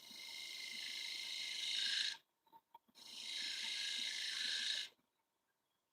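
Sandpaper rasps against a painted oak lampshade in two long, even passes of dry scratchy grinding, separated by a short pause with a few faint knocks.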